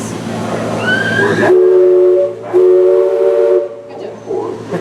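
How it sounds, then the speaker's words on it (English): A steam-style train whistle at Disneyland sounds twice, loud and near: a first long blast, a brief gap, then a second long blast with a steady tone, followed by faint rumbling. "on the right side, the long one is the whistle"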